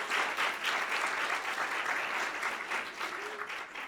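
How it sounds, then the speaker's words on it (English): An audience at an African American Read-In at a library gives a warm round of applause, dense steady clapping that holds throughout and eases slightly at the end. "a warm round of applause for those two"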